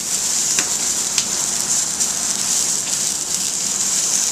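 Salmon fillet searing in a hot pan, a steady close hiss of frying with occasional small pops and crackles, heard alone without talk.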